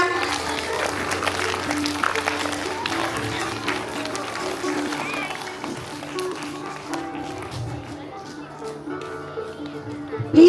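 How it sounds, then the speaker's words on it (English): Audience at a school Founders Day celebration clapping in a broad, moderately loud wash of applause, with a voice over a loudspeaker and crowd chatter mixed in. "Clap loudly all of you."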